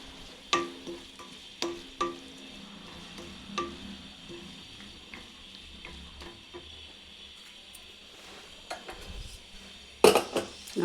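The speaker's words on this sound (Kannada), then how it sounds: "ಕೊತ್ತಂಬರಿ ಹಾಕಿ ಇನ್ನೊಮ್ಮೆ ಮಿಕ್ಸ್ ಮಾಡೋಣ" A spoon stirs and scrapes through hill gooseberry chitranna gojju in a pan after coriander goes in, with the stove off; sporadic clinks and knocks against the pan, then a louder burst of clattering near the end.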